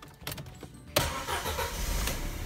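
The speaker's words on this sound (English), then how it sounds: "Go ahead and start the car." A car engine cranks briefly and then catches, settling into a steady idle close by, heard during an air-conditioning leak check.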